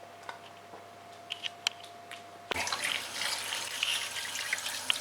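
A kitchen tap is switched on and water runs steadily into a sink for washing after a quiet stretch with a few small ticks and clicks, the flow close and moderately soft.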